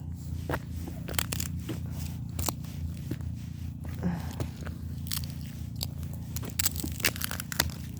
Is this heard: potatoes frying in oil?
no